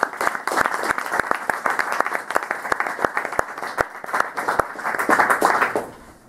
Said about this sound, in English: can I get a round of applause for Dr.